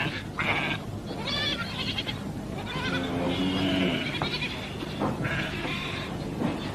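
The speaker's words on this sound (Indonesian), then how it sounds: "Kambingnya banyak bener." Several goats bleat in a loose series of wavering, nasal calls, fairly close, over a steady outdoor background with no talk.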